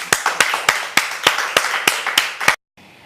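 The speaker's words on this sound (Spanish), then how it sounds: "y lo despedimos con un aplauso" Sharp, evenly spaced claps, about ten in a steady rhythm, close and loud, send off a guest in a studio talk show, then stop abruptly into near silence.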